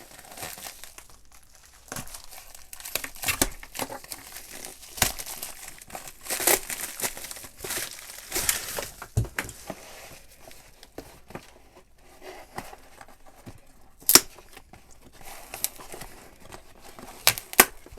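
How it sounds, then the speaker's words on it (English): Stiff cardboard and packing paper crinkle and rustle as a box is pulled out of a larger cardboard box, with scattered scrapes and sharp crackles at close range and no talking. "let's try and pull the box out of the box, if I can do that."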